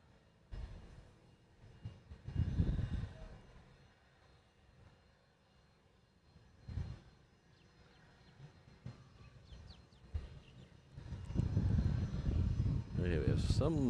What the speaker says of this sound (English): we have some loud, small plane coming up over my right shoulder